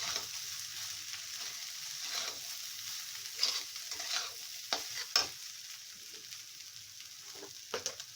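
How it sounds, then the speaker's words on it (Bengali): Soaked flattened rice (chira) stirred in a pan for chirar polao, giving soft scraping and light sizzling with several brief louder spoon strokes, close and fairly quiet, no talk. "চিড়েটা দেওয়ার পরে আবার একটু নাড়িয়ে নিতে হবে।"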